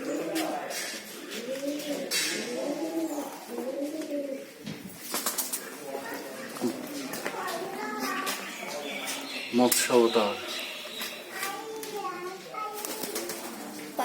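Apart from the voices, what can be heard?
pigeons cooing and flapping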